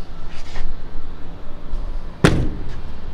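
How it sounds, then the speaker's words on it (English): Door of a 1949 Chevrolet 5700 COE hot-rod hauler truck shutting, a single sharp solid thud standing out nearby over quiet background noise. "I just let the door shut."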